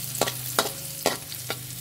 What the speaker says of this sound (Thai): เจียวกระเทียมเหลืองหอมแล้วตามด้วยไข่เลยเจ้า